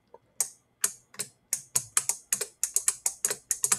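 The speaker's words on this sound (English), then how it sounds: "we got our clicky sound, and it's actually ridiculously clicky." A very clicky mechanical keyboard is typed on close to the mic, with sharp separate keystrokes quickening into a fast, irregular run of crisp clacks, with no talking.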